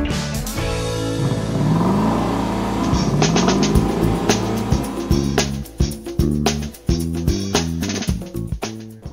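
A Lexus LC500 sports car driving through Manhattan, its engine loud and close, rising through revs and then settling into shifting, uneven engine pulses as the car moves off.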